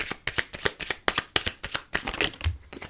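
A deck of cards being cut and dealt into piles, a quick run of crisp riffling snaps and slaps in a fairly even rhythm, close by and without talk.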